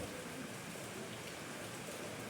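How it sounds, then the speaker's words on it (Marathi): Heavy monsoon rain keeps falling after several days of downpour, a dense, unbroken hiss that stays soft and even throughout. "आज 3-4 दिवस झाले खूप पाऊस पडतो आहे"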